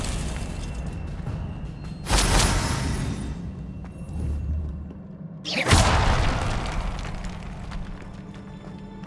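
A Confringo spell blast in the Hogwarts Legacy video game: two loud bursts, each a sharp explosive crack trailing into a rumbling boom, spaced a few seconds apart over low ambient game music and rumble.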